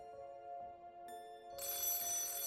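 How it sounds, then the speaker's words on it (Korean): A telephone ringing in a home, a bright repeating electronic ring with sustained tones that grows louder and fuller partway through, heard alone and close. "집에 도착하자마자 울려 퍼지는 전화소리"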